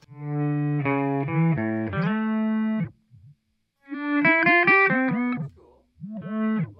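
Guitar notes blended 50-50 with a smooth, pure sine-wave tone from a synth pedal, played in short melodic phrases separated by brief pauses.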